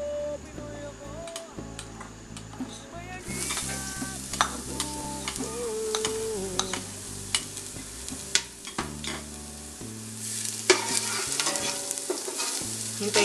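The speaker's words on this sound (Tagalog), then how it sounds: "Gisain ang bawang." Garlic sautés in hot oil for chicken adobo, a sizzle joined by frequent sharp clinks and scrapes of a utensil against the pan, over a sustained musical backing with no speech.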